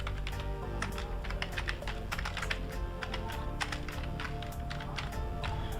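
Rapid typing on a computer keyboard as a bank address is entered, a steady stream of close, crisp key clicks with slight irregular rhythm throughout.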